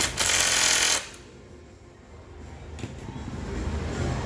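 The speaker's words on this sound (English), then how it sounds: "let's turn back to fasten the screw here" A power tool drives a screw while driving frames are installed: a loud, harsh whirring burst of about one second, then quiet background noise.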